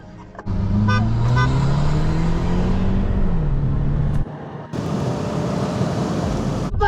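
Mercedes-Benz CLA revving during a race, a strong engine note climbing and falling in pitch as it drives past, loud and near, then a short dip before another burst of roaring car noise.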